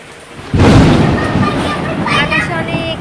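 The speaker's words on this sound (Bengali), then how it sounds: "আর খুব বৃষ্টি হচ্ছে" Heavy rain pours during a thunderstorm, a dull rumbling surge swelling into a dense, steady roar, with a voice briefly audible underneath.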